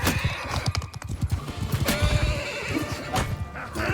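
Horse neighing with galloping hooves in Mount & Blade II Bannerlord battle, a loud whinny over a rapid clip-clop rhythm amid game battle noise.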